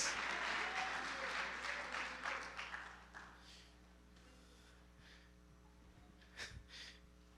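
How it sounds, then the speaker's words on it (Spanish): A church congregation claps softly during a sermon, a thin patter of applause that fades after a few seconds into quiet room tone with a faint hum and a couple of small taps. "¿Ya vio cómo los aplausos son tan bajitos?"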